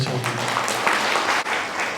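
An audience claps in thanks at a religious talk, a dense, steady wash of applause filling the whole stretch at close range, with a faint voice murmuring underneath.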